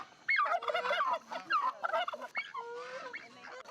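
Wild turkeys in Massachusetts gobble in repeated rattling bursts, close and fairly loud, with several calls overlapping across a few seconds and no talking.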